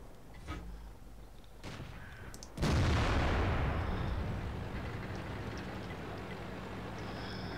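A tank cannon in the World of Tanks video game fires a penetrating shell: one sudden, loud, close boom that rolls into a long rumbling decay, preceded by a few fainter thumps and background rumble, with no talking.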